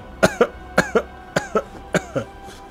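A person coughs repeatedly and close up, in a series of sharp paired hacks that come in a steady rhythm with no speech.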